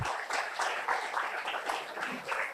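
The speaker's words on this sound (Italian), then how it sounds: "Fate un applauso a questo mondo femminile" An audience at a convention applauds women's sport with a short burst of dense, steady clapping from a crowd, moderately distant and even throughout.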